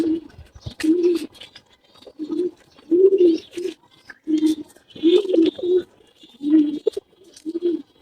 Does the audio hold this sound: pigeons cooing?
yes